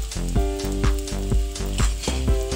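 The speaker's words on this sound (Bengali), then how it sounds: "এবার ফোড়নে দিচ্ছি আমি তেজপাতা, শুকনো লঙ্কা আর জিরে।" Bay leaf, dried chilli and cumin seeds sizzle in hot oil in a home kitchen, a close, steady frying hiss that carries on throughout.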